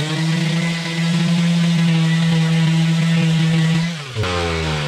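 Power tool sanding a PLA 3D print, a steady loud motor whine with a strong buzzing drone that holds level, then dips in pitch near the end as the tool loads against the plastic.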